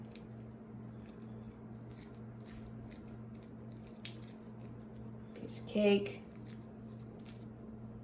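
Hard-boiled egg shells are peeled off by hand, making soft, scattered crackles and one brief squishy burst over a steady electrical hum; a voice speaks briefly.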